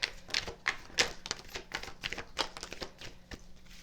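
A deck of cards is shuffled, a rapid run of crisp riffling clicks and flicks in quick irregular bursts, close and fairly quiet.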